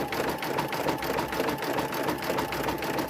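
Sewing machine stitching a quilted mug rug, a fast steady mechanical chatter running continuously at close range with no voices.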